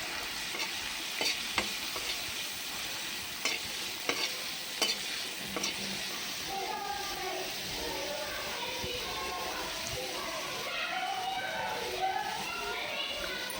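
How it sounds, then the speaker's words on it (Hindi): Soya chaap cooking in a tomato masala, a soft sizzle with intermittent spoon scrapes and clinks, fairly faint, with children's voices chattering in the background toward the end. "उसके बाद मैं डालूंगी चाप।"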